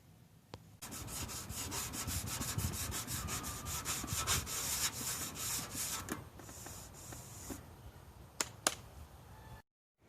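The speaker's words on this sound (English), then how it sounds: "I'm just going to trowel it on and then sand it off with a block" Rapid back-and-forth rasping of a sanding block scraping over body filler on a garden tractor fender pan, steady strokes up close, then slowing to a few scrapes before stopping.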